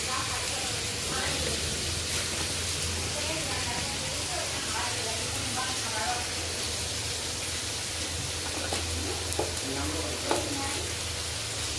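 Potatoes are stir-fried in a pan with a constant, even sizzling hiss that barely changes in level, with a faint voice murmuring underneath in places.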